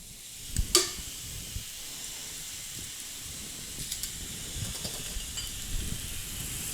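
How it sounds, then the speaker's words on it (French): A steak seared in oil heated nearly to smoking, a sharp burst of contact as it lands, then a steady quiet hiss and crackle, close and alone. "on amène notre huile presque au point de fumée. Et ensuite, on ajoute notre steak. Ce qu'on veut entendre, c'est ce bruit-là."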